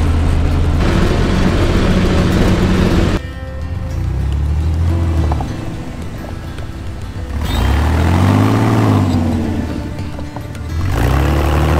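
A noisy vehicle engine runs loudly and close, its drone rising and falling in pitch as it revs up and settles back several times.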